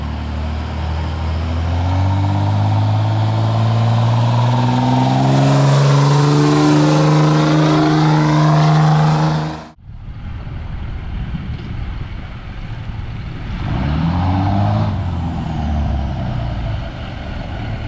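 A pickup truck hauling a Case 580e backhoe on a trailer drives along back roads, its engine droning loudly and rising through the gears, then a shift and a fresh climb in revs with road rumble throughout.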